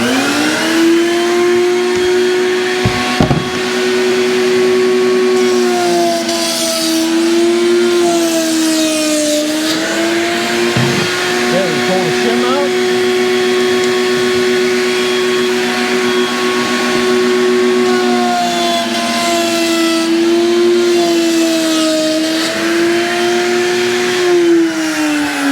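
A saw cuts a 3/4-inch cabinet back panel with a shim set for the first pass during a microwave drawer cabinet build, a loud steady whine running nearly continuously with slight pitch dips and no talk.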